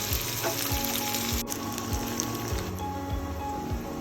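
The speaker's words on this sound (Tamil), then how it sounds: "இந்த வெங்காயம் வந்து நல்லா ஃப்ரை ஆகணும் அதுக்கு வெயிட் பண்ணணும்" Onions and green chillies fry in a pan for a chicken and green peas gravy, a soft steady sizzle with regular faint ticking clicks running through it and no voices.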